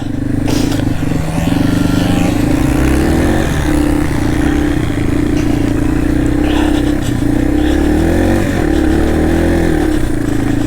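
A Yamaha TW200 dual-sport motorcycle riding through snow on its original front tire, engine droning steadily and loud throughout with small shifts in revs, close up and with no talking.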